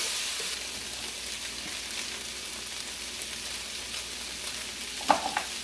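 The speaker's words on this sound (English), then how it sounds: "Now I want to keep this moving while we get some color on our potatoes." Canned potatoes sizzling steadily in a hot pan as they are fried and stirred, a constant close hiss with a soft scrape of the utensil near the end, no speech.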